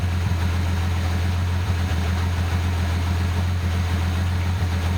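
A 1988 Nissan 300ZX turbo with automatic transmission idles close by, producing a steady low engine hum with an even throb that stays constant and loud throughout.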